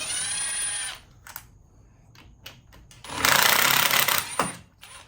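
A power tool backing out the Allen head bolts that hold the starter on a 1977 Harley-Davidson Shovelhead, heard as a short whirring burst, then a longer, louder run later with scattered clicks between.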